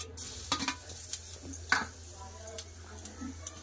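Nigella seeds and cumin fry in a pan with sparse, faint crackles and pops, irregular little ticks over a low background hum.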